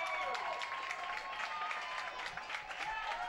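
A crowd at a high school lacrosse game applauds and cheers steadily after a record-setting goal, a continuous wash of clapping and shouts heard from a distance.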